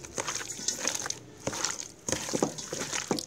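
A hand kneads and squishes seasoned raw pork for Thai sun-dried pork, giving faint, wet, irregular squelching and crushing sounds close by with brief pauses.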